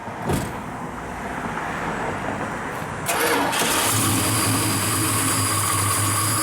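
A fuel-injected 340 engine in a 1968 Plymouth Barracuda Formula S cranks and fires up, then settles into a loud, steady idle rumble nearby.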